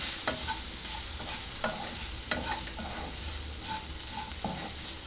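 Spoon scraping through ivy gourd curry with chili powder in a pan, several faint, irregular stirring scrapes over a steady low sizzle.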